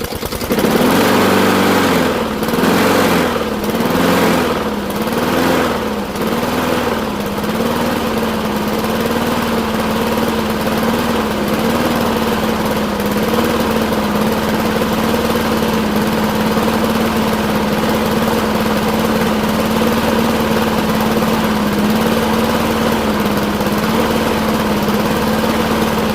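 A Honda lawn mower engine runs roughly at close range, loud and continuous, its pitch wavering and surging unevenly at first before settling into a strained, steady drone.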